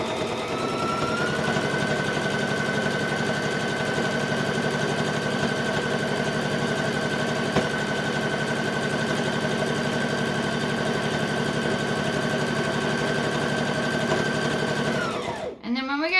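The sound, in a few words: sewing machine stitching a dice bag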